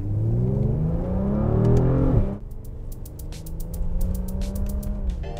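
A Mercedes GLC 43 AMG accelerates hard, its engine note climbing loud and close, then a gear change and a second, quieter climb in revs under faint ticking.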